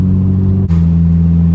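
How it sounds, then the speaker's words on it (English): Honda Civic EP3 exhaust droning at about 3,000 rpm while cruising at 50 mph, a loud, steady low hum heard from inside the car, with a brief dip partway through before the drone resumes. "this is when the exhaust gets a little bit annoying. I'm at 50 miles an hour, about 3K revs, and it's a droney boy"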